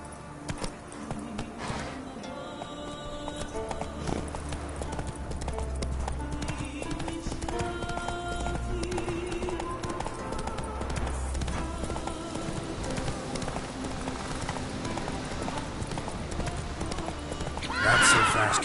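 Roach the horse gallops in The Witcher 3 with steady, rapid hoofbeats on and off and a whinny near the end, over game music and ambient sound.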